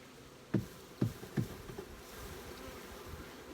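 Honeybees from a queenless hive buzz close by at low level, with three sharp thuds or bumps in the first half over a faint, steady hum.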